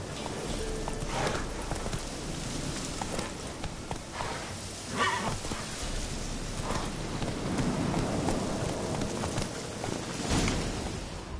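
Horse hooves clip-clopping at a steady riding pace in The Witcher 3, with rain and faint rumbles of thunder in the background.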